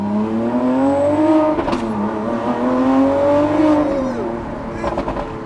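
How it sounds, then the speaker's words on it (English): A Lamborghini Aventador Ultimae moving in traffic, its loud, close engine note rising and falling with a few sharp exhaust pops and crackles bursting through. "You hear that pop and crackle, which is pretty exciting altogether."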